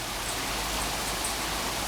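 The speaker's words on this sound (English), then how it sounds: "I don't think I've ever seen a hailstorm quite like this before." A hailstorm pelting down, a dense even hiss of countless small impacts holding steady throughout, with no talking.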